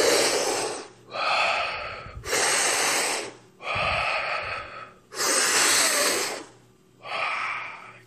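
Deep, forceful breaths drawn in to expand the chest as fully as possible, six loud, airy breath cycles about a second apart with short pauses between, close up and with no talk.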